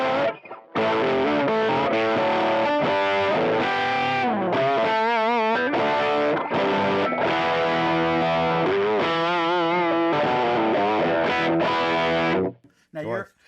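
Electric guitar played with a Fender fuzz pedal, a loud, continuous distorted run of sustained notes and bends that cuts off near the end.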